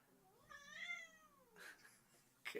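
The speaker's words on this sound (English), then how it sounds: "Look at this cute cat." A cat gives one clear, drawn-out meow up close, rising and then falling, followed by faint rustling and a short noisy burst, all at low volume.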